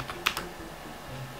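Several quick keystrokes clatter on a computer keyboard, a short close burst of clicks in a quiet room.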